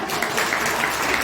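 Steady audience applause at a church gathering, dense and continuous for about a second with no gaps, filling the room at moderate loudness.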